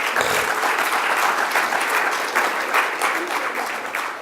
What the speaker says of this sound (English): Vanda, I see you clapping because of Janet.